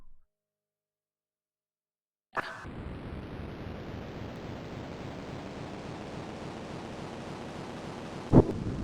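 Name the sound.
wind in Deluxe Ski Jumping 2.1 video game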